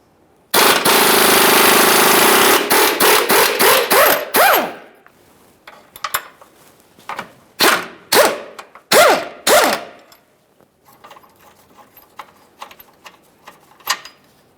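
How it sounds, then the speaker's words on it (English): Impact wrench hammering loose the 21mm bolt that holds a 2013-2020 Ford Fusion's front lower control arm to the subframe: a long loud rattling burst, then a string of shorter sharp bursts that trail off. "we're going to remove our 21mm mounting bolt holding the control arm to the subframe"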